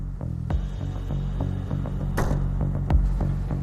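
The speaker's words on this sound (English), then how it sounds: "This 33-tonne excavator is only on site for rehabilitation work." A 33-tonne excavator's engine runs on a rehabilitation work site, a steady, loud low throbbing hum with pulsing rhythm and a brief hiss burst midway, no voices.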